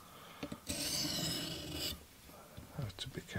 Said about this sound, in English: I'm going to do some light passes just to try to get rid of some of that burr